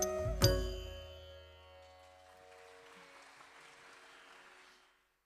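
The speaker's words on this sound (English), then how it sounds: "Let's give another big round of applause to Srimati Neela." A final ringing musical note ends a Bharatanatyam dance debut performance and fades away as a modest crowd claps, the applause soft and spread out before dying off.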